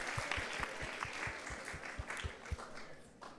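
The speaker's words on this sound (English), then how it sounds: "So let's give a big round of applause to everyone." Devotees at a Krishna Katha gathering applaud faintly in the distance, soft clapping spread throughout with a steady rhythmic thump underneath, no talk.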